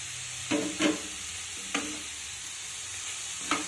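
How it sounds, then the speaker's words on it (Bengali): Leafy greens (shak) fry in a pan, a soft steady sizzle broken by a few brief stirring scrapes, close and fairly quiet, no speech. "আরও 1 মিনিট মতো আমি শাকটাকে ভেজে নিলাম"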